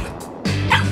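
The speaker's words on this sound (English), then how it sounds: "Look! This doggy needs our help." A cartoon dog giving short, loud yips and a bark in quick succession, close and alone.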